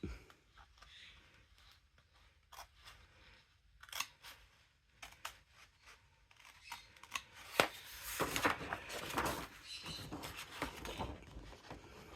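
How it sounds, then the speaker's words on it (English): Scissors snipping through a paper recipe template for a scrapbook, a string of small close crisp cuts and paper rustles that get busier and louder toward the end, with no talking. "Once you get it started, then you can get your scissors in there and it's easier to do"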